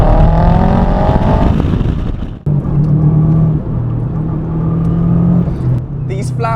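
A Subaru Impreza WRX flat-four engine revs up loudly, drops off sharply, then settles into a steady grumbling drone as the car drives.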